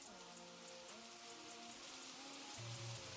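Steady rain falls on surfaces in a continuous soft hiss of drops, with faint tonal hums running underneath and no talking.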